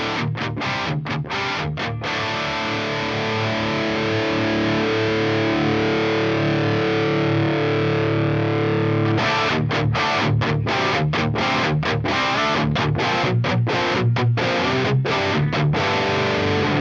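Heavily distorted electric guitar through a Diezel VH4 amp model on a Line 6 Helix, played as chugging palm-muted rock and metal riffs with sharp stops and a long sustained chord in the middle, loud and close with no talking.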